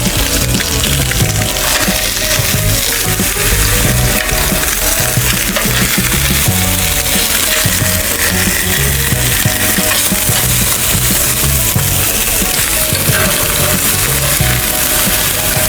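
Raw fish sears in a hot pan with sesame oil, giving a loud, dense, continuous sizzle and crackle close up, with light scraping and no voices.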